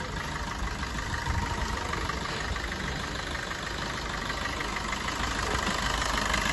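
A 2018 Maruti Suzuki Vitara Brezza VDI diesel engine idles steadily up close, a continuous low rumble with a faint knocking rhythm and no voices.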